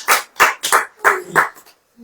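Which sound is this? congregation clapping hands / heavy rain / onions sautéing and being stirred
congregation clapping hands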